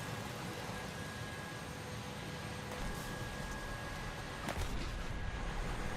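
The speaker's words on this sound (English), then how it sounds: "The three of us get in here just in time for a lot of artillery to hit" Artillery shells hitting in War Thunder, a dense, rumbling barrage of low booms over steady engine-like noise, with sharper impacts toward the end.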